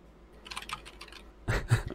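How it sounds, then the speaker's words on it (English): Close, crisp typing on a computer keyboard, with a light patter of keystrokes followed by a louder, quicker burst of taps, and no voices. "Typing can be heard."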